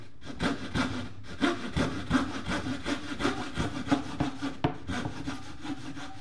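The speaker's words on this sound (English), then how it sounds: "take and cut down, straight down with a coping saw" A coping saw cuts straight down into a wooden beehive inner cover with fast, even, rasping back-and-forth strokes, close and steady throughout.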